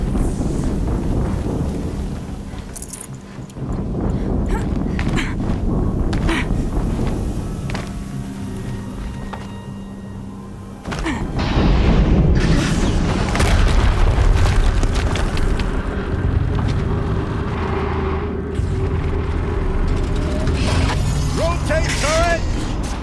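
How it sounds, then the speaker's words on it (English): Explosions in the video game Horizon Zero Dawn, heavy rumbling booms rolling over a dense battle din, loudest in the second half, with a voice speaking through it. "Another explosion."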